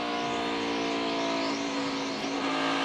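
A NASCAR stock car howls around the Dover oval at full throttle, a loud continuous engine drone with layered harmonic tones and a faint tire squeal, steady throughout with no voices.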